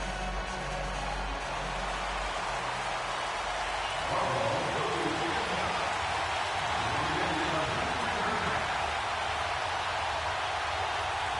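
Steady rain in an EA Sports football video game on PS4, a dense hiss that runs the whole time, loud and even, with a low rumble early on and crowd or commentary noise underneath.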